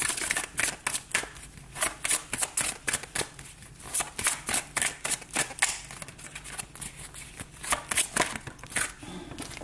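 Tarot cards shuffled for a fresh reading, rapid rhythmic bursts of crisp papery riffling repeating steadily up close, alone without any speech.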